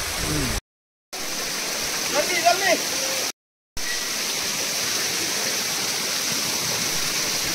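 Water gushes from the 108 spouts at Muktinath in Nepal, a steady close rushing roar broken by two brief dropouts, with a voice briefly rising over it.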